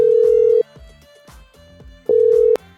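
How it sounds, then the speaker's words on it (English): A steady electronic phone tone sounds twice, a long burst then a shorter one, with quiet background noises in the gap between them. "Now just grab my phone again. Okay, right, here we go. Right, it's ringing."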